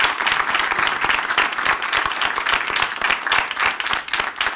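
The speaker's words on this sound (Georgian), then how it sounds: "აპლოდისმენტები." A studio audience at a Georgian television show applauds warmly, with dense, continuous clapping from many hands that stays loud and even throughout.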